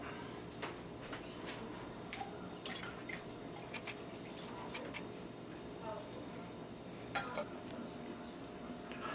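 Water is poured into an emptied can of cream soup to rinse out the leftovers while potato soup is made, giving soft dripping and trickling with small metallic clinks and taps, steady and close.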